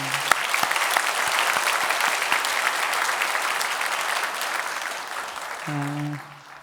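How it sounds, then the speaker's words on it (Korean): A church congregation claps warmly and steadily for several seconds for an Easter cantata choir, the applause gradually thinning out before a short tone sounds at the end. "우리 은혜삼 찬양팀에게 우리 감사의 박수 보냈으면 좋겠습니다"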